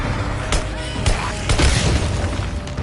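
Gunfire in the video game Days Gone: three or four heavy, booming shots land about half a second apart over a dense, loud game soundscape.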